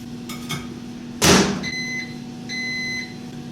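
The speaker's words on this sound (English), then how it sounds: "we're gonna put this in the microwave for like 15 seconds" A microwave oven heating cheese on toast hums steadily, then a sharp clunk like its door is followed by two drawn-out electronic beeps, close and clear.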